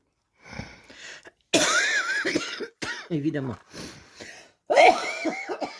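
A woman coughs and clears her throat in several harsh bursts, close and fairly loud, with brief spoken words between the coughs.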